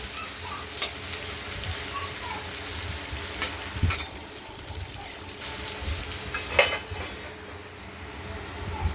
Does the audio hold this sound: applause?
no